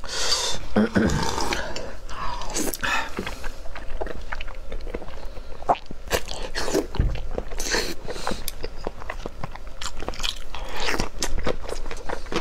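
Noodles are eaten close to the microphone, with loud, dense crunchy bites and wet chewing continuing without a break and no speech.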